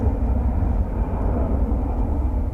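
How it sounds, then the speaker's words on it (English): A Boeing 787 Dreamliner arriving at DFW Airport gives a steady, loud broadband jet roar, dense and low, holding level throughout with no talk over it. "We have one of those interesting flights coming in. It's a 787 Dreamliner."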